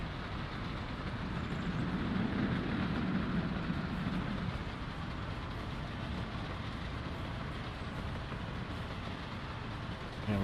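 A train rumbles steadily through a rail depot in the Soviet city-building game Workers & Resources: Soviet Republic, a continuous dense low roar and rattle that swells early and then holds even throughout.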